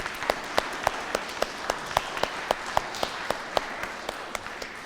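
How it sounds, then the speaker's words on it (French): Congregation at Christmas Mass claps for the choir, a sustained wash of applause with one sharp, evenly spaced clap standing out in a steady rhythm above the crowd. "Merci à la chorale qui n'est jamais fatiguée. On les applaudit, on leur dit merci beaucoup."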